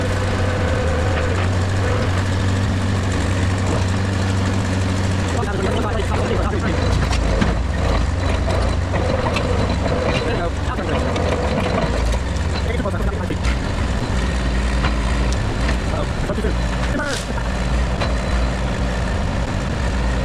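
A 1959 International dozer engine runs with a loud, continuous low diesel drone, while people talk over it and crashing, cracking noises build in the middle as it pushes into a group of huge trees.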